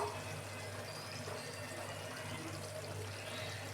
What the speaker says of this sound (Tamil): இப்போ அந்த மிக்ஸி ஜார் நிறையாவே தண்ணி ஊற்றிக்கிட்டேன்.